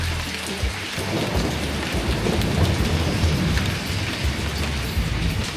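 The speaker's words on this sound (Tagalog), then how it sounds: "mayroon pang kulog" Steady heavy rain pours down while low thunder rumbles underneath, a dense, constant wash of sound with no voices.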